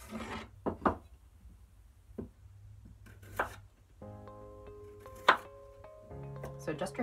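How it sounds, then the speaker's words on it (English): Purple potatoes are sliced with a sharp kitchen knife on a board, several separate crisp chops spaced apart and close by, with a soft tonal hum and low background noise between the cuts. "I am going to cut them with my sharp kitchen knife"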